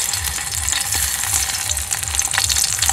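Stuffed snake gourd frying in hot mustard oil in a pan, a loud, continuous close sizzle with a steady bubbling rhythm and no talk.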